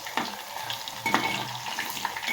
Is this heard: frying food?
yes